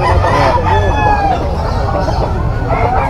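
A round head stag gamecock at a Malabon market crows loudly and close, one drawn-out call over background chatter and other fowl.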